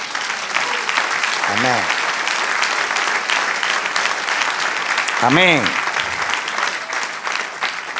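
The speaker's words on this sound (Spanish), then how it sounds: "Dale un aplauso al Señor." A church congregation applauds steadily throughout, a dense wash of clapping with a voice twice calling out over it.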